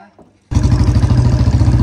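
A Royal Enfield Bullet motorcycle, converted to BS3, idles close by with a loud uneven thumping exhaust and rapid crackling pops that kick in abruptly after a short quiet start.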